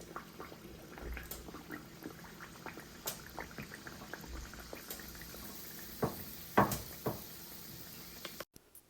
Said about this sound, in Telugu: ఫ్లాట్గా చేసుకున్న బియ్యం పిండిని వేడిగా ఉన్న ఆయిల్లో వేసి గోల్డెన్ బ్రౌన్ వచ్చే వరకు ఫ్రై చేసుకోవాలి